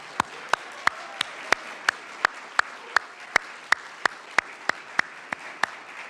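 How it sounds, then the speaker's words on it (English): An audience at a graduation hooding ceremony claps in a sparse, evenly spaced rhythm of about eighteen distinct hand claps, moderately loud and without voices, more like a few people clapping than a full crowd. "Let's give them one more round of applause."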